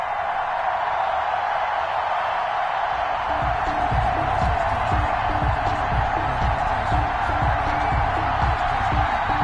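Stadium crowd roar fills a pregame broadcast of an EA Sports NFL video game, Miami Dolphins against New York Jets in Week 10, a steady loud wash of cheering with rhythmic low thumps under it throughout.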